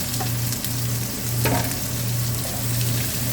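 Garlic, ginger and onion sizzle steadily in a hot pan for sinangag, a continuous loud frying hiss with a faint low hum beneath and a brief scrape of stirring midway.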